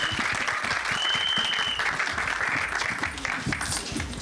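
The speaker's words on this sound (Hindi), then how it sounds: "एक बार जोरदार तालियां।" Loud audience applause fills a trailer launch event for a Bollywood film, with dense steady clapping throughout and a brief tonal whistle or feedback squeal partway in.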